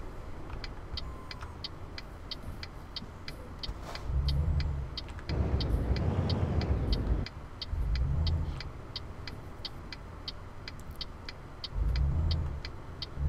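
A heavy truck in Euro Truck Simulator 2 drives with a steady low engine rumble, swelling in several surges as it accelerates, alongside a rapid, regular ticking like an indicator.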